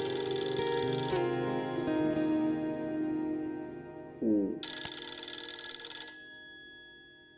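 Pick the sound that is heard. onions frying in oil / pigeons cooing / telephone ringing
telephone ringing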